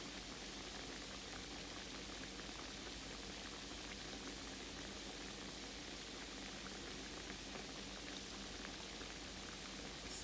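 Food frying in grease on low heat, a faint, steady bubbling sizzle with fine crackle that holds evenly throughout, no voices.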